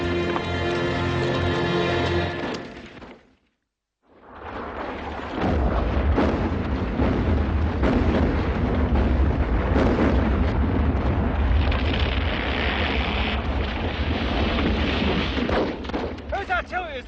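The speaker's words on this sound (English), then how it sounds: "Whose artillery is that? It's ours." Heavy artillery fire in a World War I battle scene: one booming blast, a brief gap, then continuous rolling explosions and rumbling bombardment, loud and close, with shouting voices mixed in.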